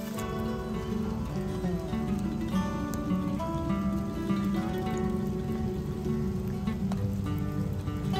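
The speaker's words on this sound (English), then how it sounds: "still raining." Steady rain falling on a forest trail in Japan, a continuous soft patter with occasional louder drips, heard alone with no talking.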